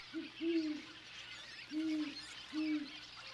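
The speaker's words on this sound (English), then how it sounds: "Great horned owls share these cliffs." A great horned owl hoots from cliffs in deep, soft calls, a short pair followed by two more spaced hoots, fairly clear over a faint background hiss.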